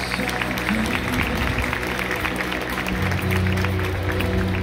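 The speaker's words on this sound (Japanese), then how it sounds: "スタンドの皆様、中塚優太さんにもう一度拍手をお願いいたします" A stadium crowd at Mazda Zoom-Zoom Stadium Hiroshima applauds after a ceremonial first pitch at a Carp game, broad distant clapping over a low rumbling crowd and ballpark hum, sustained throughout.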